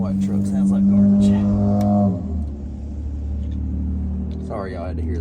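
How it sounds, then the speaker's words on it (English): A white Ford F-350 dually pickup engine idling loudly and roughly, with a strong low drone and uneven rumble that drops and shifts partway through, then a quieter irregular chug continues with brief voice-like sounds near the end. "White truck sounds like garbage."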